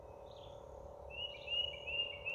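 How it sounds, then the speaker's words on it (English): Small birds outdoors in Florida whistle and chirp in a few thin, high phrases over a steady low hum. The birds sound faint and somewhat distant, and no one speaks. "These birds just love to be in the video."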